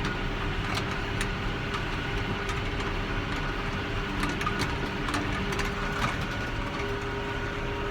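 A round baler works through sorghum windrows behind a tractor in a wet field, a steady mechanical drone with rattling and clicking pickup noise running unbroken throughout, nearby and constant.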